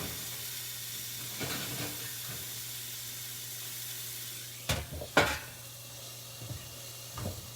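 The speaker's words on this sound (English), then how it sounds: "Oh, time to flip the carrots over. Let's flip them over real quick." Carrots in a hot pan give a faint, steady sizzle, broken by a few short scraping knocks as they are flipped over, with no talking.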